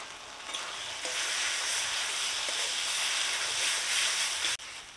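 Spice paste with tomato and salt sautéing in a pan, a steady hissing sizzle that swells after the first second and cuts off sharply near the end.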